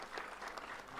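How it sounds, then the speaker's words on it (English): Faint, distant audience applause at the launch ceremony of the Africa Food Systems Forum 2026, a soft, even patter of clapping lasting about a second. "A round of applause to our PS."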